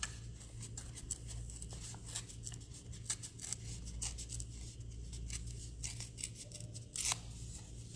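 Scissors snipping tissue paper for a painted collage background, a long run of quick, close, crisp cuts at an uneven rhythm.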